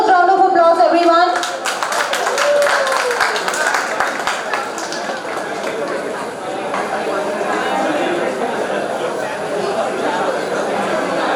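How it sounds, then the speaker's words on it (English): A crowd applauds the winners at a college IT fest awards ceremony, sharp dense clapping rising after a brief voice and continuing steadily, with cheering voices mixed in. "Let's motivate the winners with a huge round of applause"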